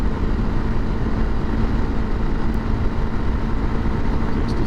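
A Honda CRF300L Rally motorcycle pulls at wide open throttle up a steep hill, its engine a loud, continuous, unwavering drone blended with heavy wind rush, close and steady from start to end.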